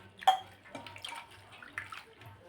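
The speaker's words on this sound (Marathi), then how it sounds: "ती स्वच्छ अशी धुवून घेणार आहोत पाण्याने" Freshly picked sour dock greens (aambat chuka) from a terrace garden are rinsed under running water, with soft splashing and sloshing and a brief clink at the start.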